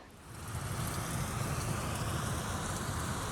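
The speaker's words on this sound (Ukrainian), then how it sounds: "Такий грубий дощ. Справжня злива." Heavy rain pouring down in a garden, a dense, steady roar of drops hitting surfaces that swells in the first half second and then holds constant, with no talking.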